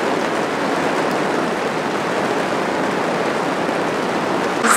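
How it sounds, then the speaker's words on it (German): Hail drums on the tin roof of a hut at an ostrich farm in Bulgaria, a loud, dense, unbroken roar that fills the whole stretch, with no voices over it. "Und es ist so ein großer Hagel gerade."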